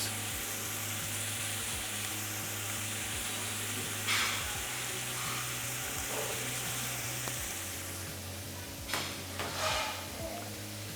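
Minced meat frying in a pan gives a steady sizzle with occasional clicks and scraping stir sounds, and a low hum runs underneath.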